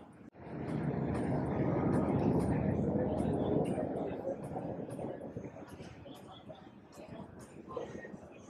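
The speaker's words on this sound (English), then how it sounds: "once this plane passes" An airplane passes overhead at an old cemetery in Old Town San Diego, a broad, loud rumbling roar that swells early and then slowly fades; people talk faintly beneath it.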